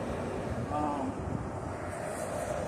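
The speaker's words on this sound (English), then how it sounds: "It's just really windy." Steady wind rushes across an outdoor camp in El Paso, Texas, a continuous broadband roar with microphone buffeting, with no speech over it.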